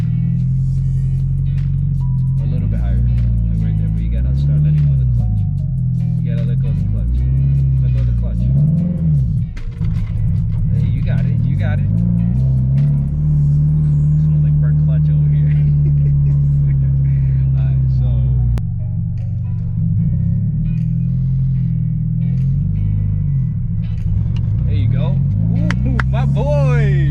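A manual car fitted with a racing clutch idles and revs up and down while being driven by a learner. The engine drones loud and close, its pitch rising and falling and holding steady at times, with voices heard occasionally over it.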